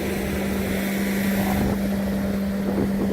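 Ditch Witch SK1550 compact utility loader straining under a roughly 2000 lb rock, a loud steady engine drone with a constant hum, continuous and close, with no voices.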